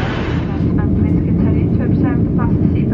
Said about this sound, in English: That's the same plane we were on last year.